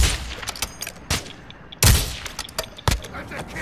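Loud, sharp gunshots ring out in the video game Call of Duty DMZ, a few separate cracks spaced over a few seconds with brief quiet between them.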